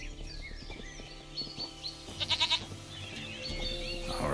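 In The Witcher 3, a goat lets out a short run of close, nasal bleats midway through, set against quiet outdoor ambience with faint bird chirps.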